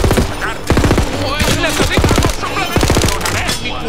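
A weapon fires in the video game Tiny Tina's Wonderlands, with loud, close bursts of rapid shots repeating in a quick, punchy rhythm.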